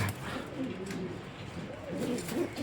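Racing pigeons, including a big red checker hen, coo in a soft low rhythmic burble close by, several throaty coos rolling on without a pause.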